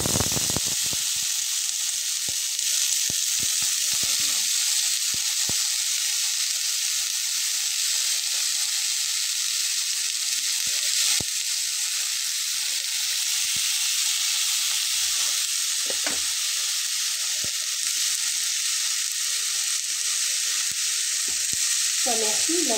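Pointed gourd (potol) sizzles steadily in a pan over medium-low heat, a continuous close frying hiss with occasional stirring clicks and scrapes, no talking.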